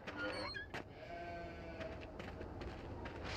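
Sheep bleat in the video game Beyond Two Souls: a short, moderately loud call near the start, then a fainter farmyard ambience with soft scattered noises.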